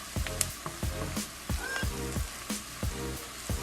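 Fresh garlic sizzles in a hot pan while being stirred, a steady close frying hiss broken by regular soft scraping strokes of the utensil.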